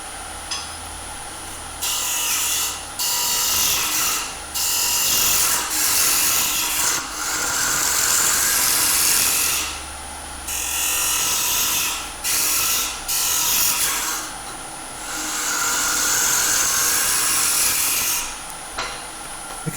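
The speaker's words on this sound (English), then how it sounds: "the 8mm carbide works great, and with practice you can get a nice clean finish on the insides" A woodturning lathe hollows the inside of a wooden box with an 8mm carbide tool, giving loud bursts of scraping, hissing cuts that start and stop in repeated passes over a steady motor hum.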